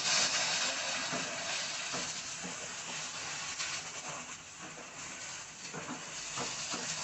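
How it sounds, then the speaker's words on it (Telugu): A paste of onion, cashew, cinnamon and cloves fries in a pan for chicken curry, giving a continuous loud sizzling hiss up close with faint irregular stirring scrapes beneath. "పేస్ట్ మొత్తం యాడ్ చేసుకొని చక్కగా ఫ్రై చేసుకోవాలండి"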